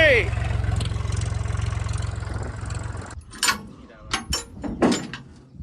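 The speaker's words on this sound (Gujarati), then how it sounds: "આપણે ટ્રેક્ટર લઈને ત્યાં જઈએ" A tractor engine idles on a farm before heading to another field to spray crops, a steady low chugging rumble for about three seconds that then stops, followed by clunks and voices.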